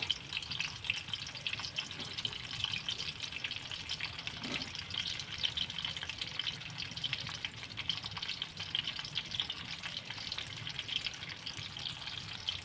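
Steady sizzling and crackling of stuffed bitter gourds frying in oil in a kadhai, continuous and close, with no one speaking.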